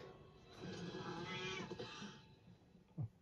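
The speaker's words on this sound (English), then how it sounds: "A fucking cat." A cat meows in a drawn-out, wavering cry, moderately loud, followed by a short low sound near the end, with no voices.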